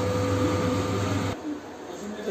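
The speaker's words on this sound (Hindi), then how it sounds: "इसका बारीक पेस्ट पीस के हम तैयार कर लेते हैं।" A kitchen mixer grinder whirs steadily as it grinds a fine chutney paste in its jar for sooji dhokla, a loud continuous motor drone that cuts off abruptly partway through, leaving a faint quieter hum.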